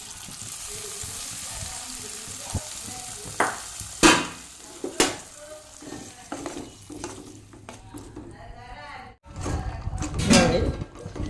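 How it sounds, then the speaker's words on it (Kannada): Sharp crackles and pops burst as mustard seeds, curry leaves, garlic and asafoetida fry in hot oil, with stirring clatter and a louder sizzling surge near the end. "ಈಗ ನಾನು ಇದಕ್ಕೆ ಒಗ್ಗರಣೆಯನ್ನು ಹಾಕ್ತೇನೆ"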